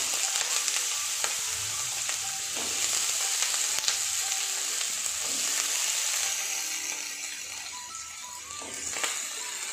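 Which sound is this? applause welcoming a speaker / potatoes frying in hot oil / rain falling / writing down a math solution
potatoes frying in hot oil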